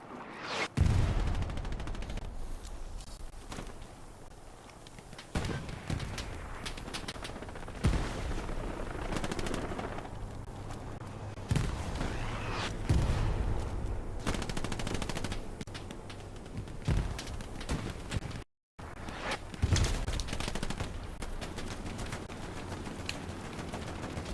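Hell Let Loose aircraft strafing gunfire on artillery near Foy. Repeated rolling bursts of machine-gun fire and distant booms sound through the battlefield. The volume is moderate and the bursts come in irregular waves.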